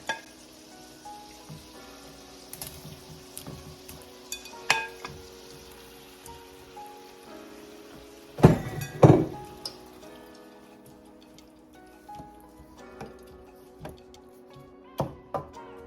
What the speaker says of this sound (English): At this time, guys, I will be adding my shrimp